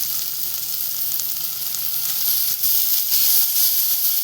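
Chopped onion and tomato are sautéed together in a hot pan, giving a loud, even, hissing sizzle with soft stirring, growing slightly louder toward the end.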